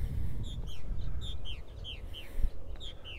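Gull calls from a young gull near a purple martin house in summer, a series of repeated short downward-slurred cries about every half second, fairly clear over low wind and background rumble.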